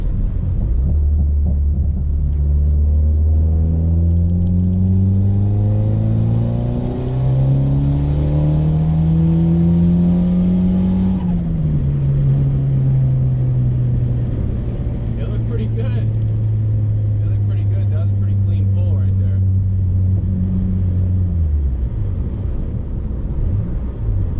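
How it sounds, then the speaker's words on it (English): A boosted Honda Accord pulls hard through third gear, its engine note climbing steadily in pitch, dipping briefly, then holding a loud sustained drone before cutting off near the end, with a voice speaking over it. "we'll see if we can rip a little third gear here"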